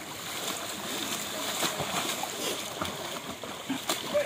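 Children having a water fight at a riverside, with busy splashing and sloshing water close by, mixed with their excited shouting and talk.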